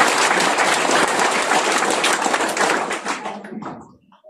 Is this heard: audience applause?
yes